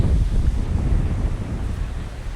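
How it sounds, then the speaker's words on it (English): Gusty wind buffets the microphone over rolling surf on a pebble beach on Orchid Island (Lanyu), Taitung, a loud, steady low roar with no talking. "And it's so windy."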